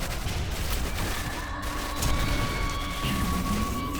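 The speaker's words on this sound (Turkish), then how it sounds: "Oğlum roket atıyor roket" In Quake 4, an enemy fires rockets amid a dense clatter of gunfire and booms, steady and fairly loud throughout, with no voices over it.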